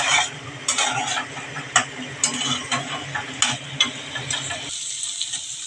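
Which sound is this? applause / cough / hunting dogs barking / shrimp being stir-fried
shrimp being stir-fried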